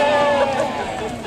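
Several children's voices imitate sheep bleating, a sustained wavering chorus of mother-sheep calls in a puppet show about a shepherd and his flock, loud and close, about a second long.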